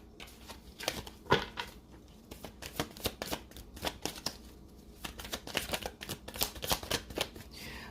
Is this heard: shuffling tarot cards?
yes